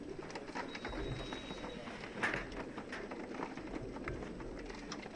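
Racing pigeons cooing steadily during final race basketing at a Victoria Falls one-loft race, soft repeated coos from many birds close by, with low handling rustle and thumps underneath.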